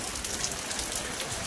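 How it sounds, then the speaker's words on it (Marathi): Steady rain falls outdoors on a wet hillside walk up to a temple, a soft broadband hiss with scattered drops, fairly faint and with no talk. "काहीच नाही पाऊस आहे"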